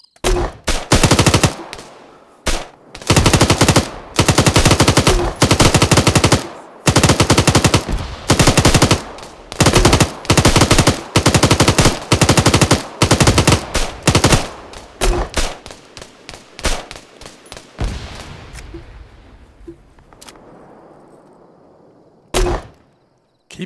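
Sustained bursts of machine gun fire in the Arma military video game, long loud volleys with short gaps, then sparser shots trailing off into quieter decay and one final burst.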